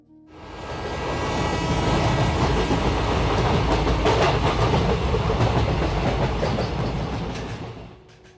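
A train runs on its rails, a loud, steady rumble with a rhythmic clickety-clack that swells in and fades out over about eight seconds, with no talking.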